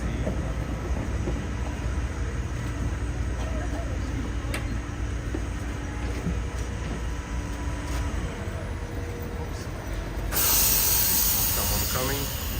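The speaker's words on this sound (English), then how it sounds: "There's people going in the tram." Lisbon tram in the Alfama and downtown streets, a steady rumbling vehicle noise with a burst of hissing air near the end, heard close, with people talking nearby.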